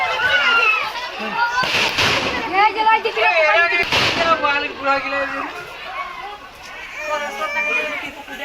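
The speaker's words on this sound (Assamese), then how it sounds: "আৰু এনেদৰে ফটকা ফুটাই গড় খেদিবলৈ চেষ্টা চলাই থকা হৈছে" Firecrackers set off to drive a Kaziranga rhino out of a populated area in Assam burst twice in sharp succession, amid a crowd of shouting voices and continuous talk.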